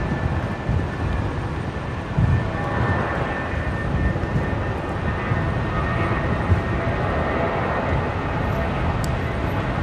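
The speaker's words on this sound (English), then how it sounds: "Jetstar, the 320 rolling, heading to Sydney." A Jetstar Airbus A320 on its takeoff roll at Brisbane Airport, bound for Sydney, gives a steady, broad engine roar that holds loud and even throughout, with a faint high whine threading through it.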